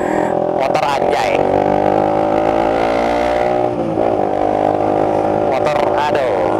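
A Honda CBR150 sport motorcycle engine with stock exhaust rumbles steadily nearby, rising slightly in pitch as it revs, while people talk over it.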